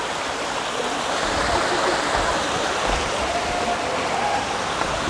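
Waterfall pouring into a flowing stream along a slippery path near a shrine, a loud, constant, broadband rush of falling and running water heard close up with no talking.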